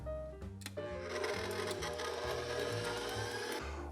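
Electric mixer beating cookie dough with eggs and vanilla, a steady whirring motor hum with a few clunks near the start, faint and continuous, no talk.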